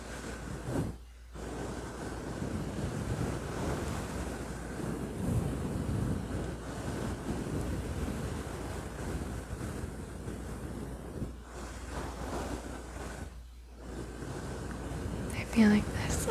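Fingers scratching a fluffy furry microphone windscreen create a dense, continuous rustling roar, with two brief pauses of near silence between long stretches of soft, close scraping.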